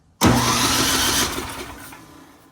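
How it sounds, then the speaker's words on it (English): A small Ariens 1130LET track snow blower engine cranks on its electric starter and catches abruptly, roaring steadily up close for about a second before settling and fading slightly. "I'm hopping straight on to the electric starter"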